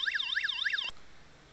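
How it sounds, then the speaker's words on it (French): The alarm on an RD229 motorized electric door lock wails, a rapid warbling electronic siren that sweeps up and down, loud and near, then cuts off abruptly, no voices. "Dès que la porte subit une effraction, l'alarme se déclenche"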